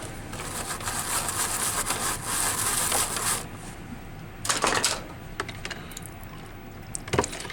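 A brush scrubs a Neo Geo arcade circuit board wet with rubbing alcohol, giving a steady close-up bristly rasp for about three seconds, then scattered shorter scrubbing bursts and a few sharp scrapes.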